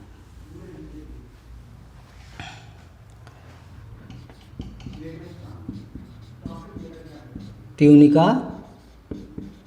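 Chalk or a marker scrapes on a board during a biology lecture, a brief loud burst of scratching near the end while someone speaks in Hindi throughout.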